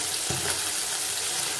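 Bata fish fries in a pan, a loud, dense, continuous sizzle and crackle of hot oil, close up, with no talking over it.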